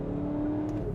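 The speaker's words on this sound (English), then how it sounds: "there is a speaker on the outside of the car that plays fake engine noises" Steady engine-like drone with a sustained tone from the exterior speaker of a 2020 Skoda Kodiaq RS, a synthetic diesel-style sound piped outside the car, continuous and fairly loud with no talk.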